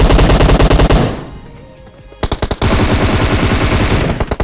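Rapid automatic gunfire in PUBG Mobile on the Erangel map, loud and close in dense bursts, breaking off into a short lull before resuming in sharp, evenly spaced shots to the end.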